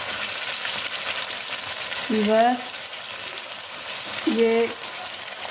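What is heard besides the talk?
onions and chicken frying in a pan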